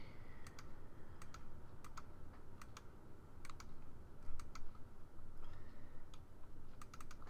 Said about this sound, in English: So we'll go left click, left, left, left, left, left.